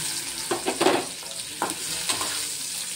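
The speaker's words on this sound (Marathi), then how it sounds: "अशा प्रकारे छान अशी परतून घ्यायची आहे." Stuffed okra (bhindi) with mustard seeds and garlic being stirred in hot oil, giving a few short scraping stirs over a soft, steady sizzle, close by and fairly quiet.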